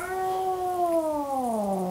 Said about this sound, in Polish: A to jest miauknięcie na pożegnanie.